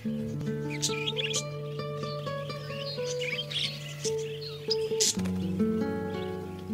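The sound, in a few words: budgie chirping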